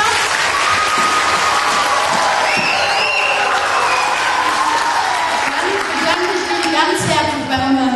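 Audience applause at a live show, a continuous wash of clapping with some crowd cheering, loud and unbroken, with a voice talking over it partway through.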